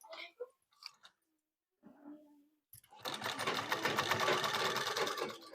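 After a few quiet spoken words, an electric sewing machine starts and runs at a fast, steady, rattling clatter, sewing a top stitch along a garment neckline.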